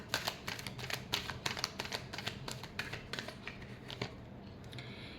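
Tarot cards being shuffled by hand, a quick series of crisp papery riffles and snaps in uneven bursts, close and fairly quiet, with no talking.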